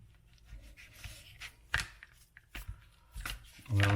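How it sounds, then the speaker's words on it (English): A knife trimming excess fat from raw chicken breasts on a cutting board, irregular soft slicing taps and scrapes at close range, quiet, with a brief voice-like hum at the very end. "We'll cut the fat off."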